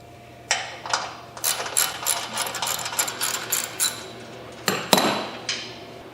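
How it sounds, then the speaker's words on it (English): A socket ratchet works at self-tapping screws on a Cub Cadet PRO Z mower deck, giving quick bursts of close metallic clicking between louder knocks of tool on metal, with no talk. "Step 8 says to remove the 3 self-tapping screws. I'm going to do that with a 1/2-inch socket and a 3/8 socket."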